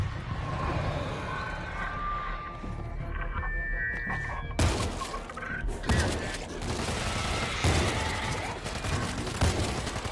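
Grenade blast and gunfire in World War Z: a sudden burst at mid-clip followed by further sharp shots and thuds amid game ambience, with a tonal hum and some voice-like sounds earlier.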